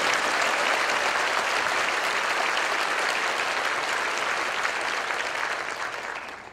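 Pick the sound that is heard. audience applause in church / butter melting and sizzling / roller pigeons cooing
audience applause in church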